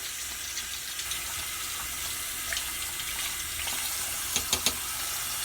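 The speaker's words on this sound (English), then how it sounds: "I'm going to rinse it out." A makeup brush is rinsed under a running tap, water streaming steadily into a sink with a few light clinks and splashes near the end.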